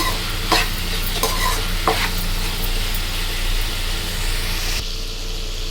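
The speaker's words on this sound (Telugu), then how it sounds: "దీన్ని కూడా బాగా మిక్స్ చేసుకొని ఇది కొద్దిసేపు ఒక టూ త్రీ మినిట్స్ వేగాక" Green chilli chicken curry mixture frying in a pan with a loud, dense sizzle, as a spoon stirs through it with a few distinct scraping strokes early on, then steady frying noise alone.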